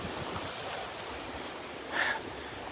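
Ocean waves washing onto a Gulf beach at Delnor-Wiggins at low tide, a steady soft surf wash with a brief swell of louder spray near the end, no voices.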